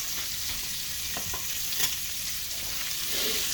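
Already cooked steak reheats in a skillet with a steady, close hiss of sizzling fat, plus faint scraping of stirring throughout.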